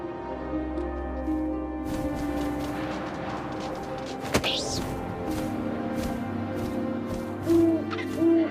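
An owl's hoot rises over a steady wind-like ambient bed in the video game What Remains of Edith Finch, with soft rustling and a few low thuds.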